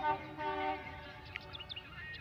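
A passing train near Dipor Bil in Assam sounds a sustained horn at the start, followed by a low rolling rumble with faint bird chirps over it; no talking.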